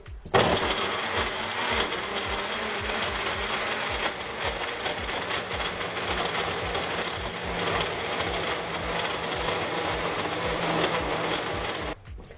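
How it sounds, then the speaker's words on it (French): A Magic Bullet blender whirs continuously as it mixes a stain-removing mixture, a steady close motorized drone with a rapid low rhythmic pulse lasting about twelve seconds before cutting off, with no talking. "je vais utiliser mon Magic Bullet, mais vous pouvez utiliser un mélangeur normal ou un batteur électrique. Et je vais simplement venir brasser le tout et mélanger"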